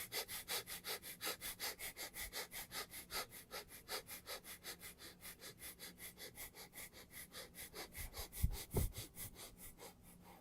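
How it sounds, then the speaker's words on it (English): Quick, short breaths drawn into the gut during a breathing exercise, repeating in a fast, steady rhythm of sharp close puffs with no talking. "I do short breaths in the gut."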